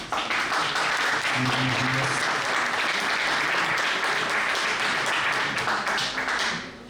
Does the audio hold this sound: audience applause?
yes